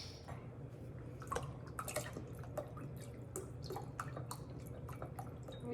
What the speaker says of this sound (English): I'm going to add the rest lemon juice